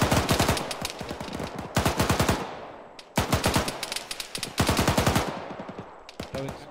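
Bursts of automatic gunfire in a military combat game set in Afghanistan, several long, loud rapid-fire volleys separated by brief pauses, close and dominating the scene.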